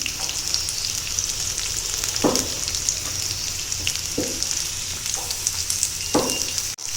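Chopped onions sizzling in about three tablespoons of hot oil, a steady loud frying hiss with a few sharp stirring scrapes throughout and a clunk near the end, no talking.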